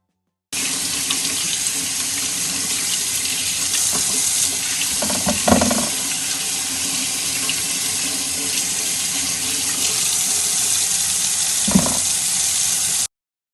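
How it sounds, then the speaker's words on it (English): Tap water runs steadily into a sink while potatoes are washed, a close continuous splashing rush broken by a couple of brief knocks and handling sounds, then cut off. "Once you have thoroughly washed your potatoes, poke holes in them"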